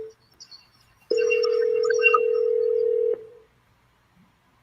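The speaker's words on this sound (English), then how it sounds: "All right, Jake, go to the head and do the next dial." A telephone handset gives a steady, loud dial tone for about two seconds while a cold sales call is being placed, then cuts off, with quiet room sound before and after.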